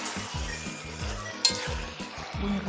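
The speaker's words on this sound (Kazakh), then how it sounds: "майға қуырып аламыз" Food being stir-fried in oil in a home kitchen, a soft steady sizzle with repeated scraping and stirring strokes of a utensil against the pan and one brief clink, no voices.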